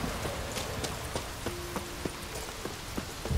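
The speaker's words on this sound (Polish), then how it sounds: "Ten deszcz, jeny, uspokój się" Rain falls in the video game The Witcher 3: Wild Hunt, a steady, soft patter of drops on surfaces, with faint rhythmic clopping, like hooves, running underneath throughout.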